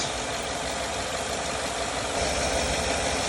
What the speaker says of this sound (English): now I'm going to turn the AC on, and you're going to watch the clutch engage